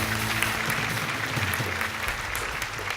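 Audience applause for a junior quiz team at an insurance awareness quiz grand finale, steady dense clapping filling the hall for the full three seconds at an even level.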